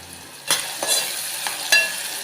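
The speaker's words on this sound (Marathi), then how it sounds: "आता हा कांदा आहे ना आपला थोडासा लालसर होईपर्यंत आपला परतवून द्यायचा आहे" Chopped onion with half a spoon of salt frying in a pan for a spicy oyster curry, a steady sizzle broken by several louder scraping stirs, close and with no talk.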